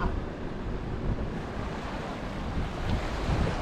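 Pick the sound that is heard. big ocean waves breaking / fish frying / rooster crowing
big ocean waves breaking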